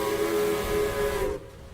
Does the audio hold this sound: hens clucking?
no